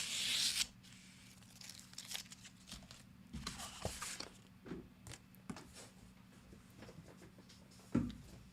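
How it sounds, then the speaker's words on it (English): Tape peeled away from paper gives a few brief tearing, crinkling rips, the loudest one at the start and another near the end, with quiet handling noises in between. "this tape peel is really nice"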